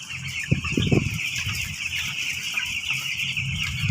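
Chickens cluck in a cluster of short bursts near the start, then settle over a steady high insect-like drone that runs throughout.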